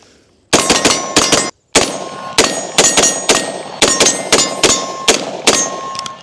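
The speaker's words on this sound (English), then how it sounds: "let's do some shooting" A Brownells BRN-180 Gen 2 rifle fires a rapid string of loud, sharp shots, roughly a dozen in quick bursts with one brief pause, each crack ringing out nearby.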